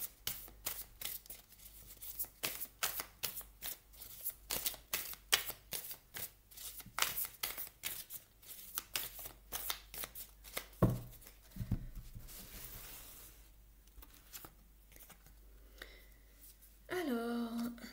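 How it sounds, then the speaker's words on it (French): A deck of oracle cards is shuffled by hand in quick, crisp riffles and flicks, close and fairly quiet, with a brief pause and a soft voice near the end. "Je mélange le jeu."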